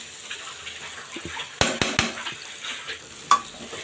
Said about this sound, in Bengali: আর একটু ভাজবো,